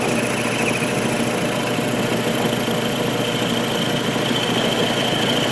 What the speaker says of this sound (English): We'll just watch the little motor feed itself right down through that hole